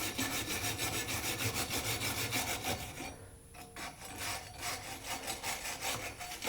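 A vintage tractor wrench is scrubbed by hand to knock rust off, giving steady rapid back-and-forth rasping strokes, loud and close, with a brief pause midway before the rhythmic scraping resumes.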